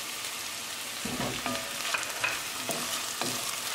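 Green jalapeno chili fries with onions and a spiced tadka in a pan, a dense close sizzle with brief scraping stirs and no talking.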